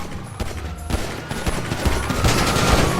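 Rapid bursts of gunfire crackle continuously in Grand Theft Auto V, dense overlapping shots with no pauses, loud and close.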